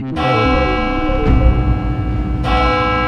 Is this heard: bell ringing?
yes